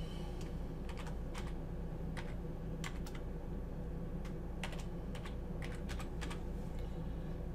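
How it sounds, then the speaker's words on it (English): Password and login details being typed on a computer keyboard, heard as scattered bursts of crisp key clicks, some in quick runs and others single, over a steady low background hum. "I'm going to go ahead and enter his login information here."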